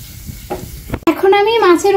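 Rupchanda fish frying in a pan, a steady bright sizzle that swells after a brief pause, with some stirring clatter and a held tonal note over it.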